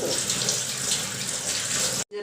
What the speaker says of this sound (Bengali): চিড়েটাকে এবারে ভালো করে ধুয়ে নিই